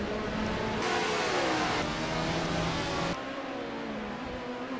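Race car engine in the Assetto Corsa racing game, a harmonic engine whine that rises and falls with shifts, loud in the middle then dropping to a lower steady drone.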